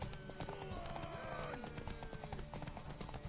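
Horse hooves clip-clop steadily in Witcher 3, mixed into dense game sound with music and voices over it and a brief whinny.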